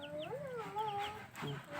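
Chickens in a rural yard in the Philippines cluck and call close by, a few rising and falling notes in quick succession over about two seconds.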